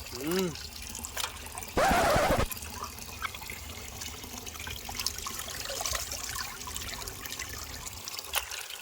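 Raw chicken being rinsed in water for Pallipalayam chicken, with a short burst of splashing and pouring water, then faint trickles and drips under a steady background hum, with a voice speaking quietly.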